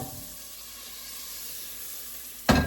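Butter sizzles steadily in a pan while carnitas are being made, a soft, even hiss at moderate level, ending in a brief loud clatter.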